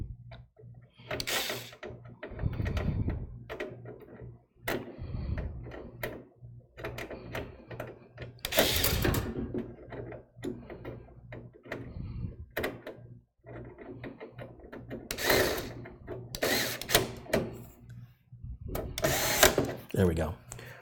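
A hand screwdriver drives the six screws that hold a computer motherboard in place, giving irregular close, soft ratcheting clicks and scrapes in bursts, with a person talking at times.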